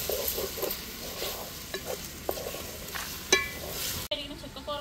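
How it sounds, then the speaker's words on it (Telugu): A spoon scrapes and stirs chicken with salt and turmeric in a hot pan. Steady sizzling runs under it, and several sharp clinks of utensil on metal sound close by. "ఇది మొత్తం మిక్స్ అయ్యే విధంగా ఒకసారి కలుపుకుందాం."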